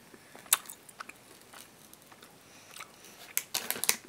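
Someone bites into a powder-coated, yogurt-flavored Japanese gummy candy: a sharp bite near the start, then quiet, soft chewing, and a cluster of crisp, close crunches toward the end.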